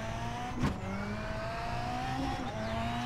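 A race car on a track: an engine note climbing steadily with a brief whoosh of another car passing, heard from inside at moderate level with no talk.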